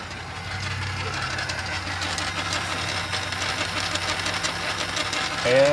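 An RV slide-out motor spins counterclockwise, a steady mechanical hum and whir running continuously at close range, with a brief louder surge right at the end.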